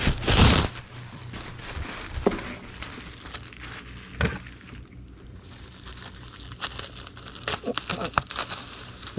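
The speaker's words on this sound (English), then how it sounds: "we'll need half a sheet of bubble wrap" Bubble wrap being handled for packing, crinkling and rustling up close in an irregular run with a few louder crackles and bumps, alone with no talking.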